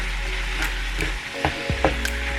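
Seasoned ground meat for crockpot chili frying in a pan with salt and pepper, a steady close sizzle with a few brief clunks and scrapes from stirring.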